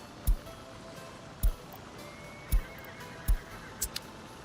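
Horse neighing in the city-building game Workers and Resources, set at a 1900 start in Siberia: four short, loud whinnies at roughly one-second intervals over a steady watery background hiss, with a couple of smaller sounds near the end.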